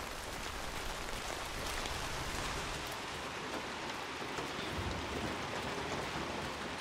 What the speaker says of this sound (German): Wegen dem Regen.